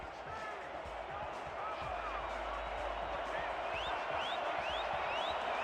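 Home crowd cheering in a football stadium, a steady roaring wash of many voices with scattered whistles, loud and continuous, with a commentator's voice faintly underneath.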